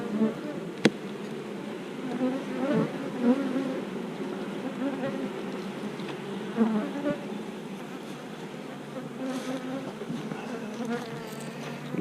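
Honeybees hum in an open hive, a steady low buzz of many workers close by, with the occasional single insect passing nearer and louder against the drone.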